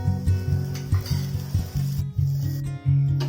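Oil sizzles under a chana dosa on a hot pan, with a steady frying hiss and a low repeating hum throughout. No one speaks.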